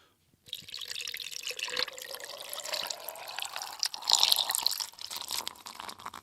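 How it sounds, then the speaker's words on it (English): Fizzy drink poured slowly from a can into a cup, a continuous liquid stream with crackling carbonation that swells toward the end, heard alone. "And then we pour it in nice and slow and let it fizz and pop and crackle"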